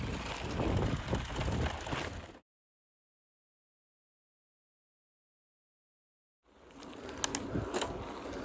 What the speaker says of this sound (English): I'm pushing my bike